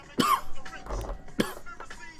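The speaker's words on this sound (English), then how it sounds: "I'm sorry for coughing" Two sharp, close coughs about a second apart, with a faint muffled voice between them.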